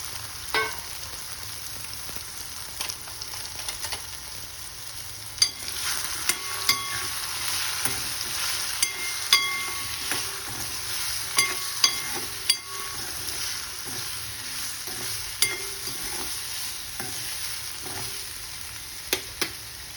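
Asafoetida tempering sizzling in hot oil for a ridge gourd curry, a steady close hiss with light intermittent clinks of a stirring spoon against the pot throughout.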